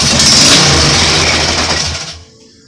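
A go kart engine with a straight pipe, built from salvaged parts, bursts into a loud rough roar close by and runs for about two seconds before cutting off abruptly.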